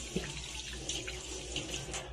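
A tap runs steadily while hands are washed under it, with the stream splashing and gurgling close by and no talking.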